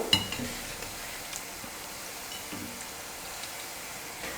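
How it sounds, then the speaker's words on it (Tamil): Small pieces of a potato, carrot and egg snack deep-frying in hot oil make a soft, steady bubbling hiss, with a louder clatter at the start and occasional light clinks. "நான் இந்த மாதிரி கொஞ்சம் சின்ன சின்னதாக நான் எண்ணெயில் போட்டு பொரிச்சு எடுத்துக்க போகிறேன்"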